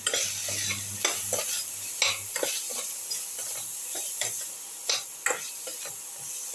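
Spices including chili powder and turmeric with vegetables sauté in a pan for a cucumber shallot rice soup, a soft frying hiss broken by repeated spatula taps and scrapes.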